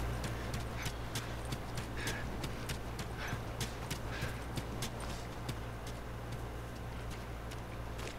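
Horses' hooves in The Last of Us, a faint steady clip-clop of rapid sharp hoof strikes, fairly distant and continuous throughout.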